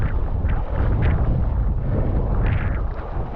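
Steady wind rushing over the microphone while wing foiling on open water, loud and continuous with broadband buffeting and a few stronger gusts swelling through, no talking.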